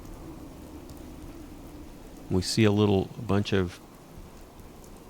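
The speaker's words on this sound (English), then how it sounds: "Don't know that the rain has helped any." Soft, steady rain hisses in the background of the video game Fallout 4, with someone talking briefly over it.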